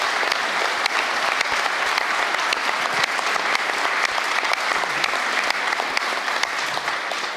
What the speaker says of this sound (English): Can we have a round of applause for our interpreter?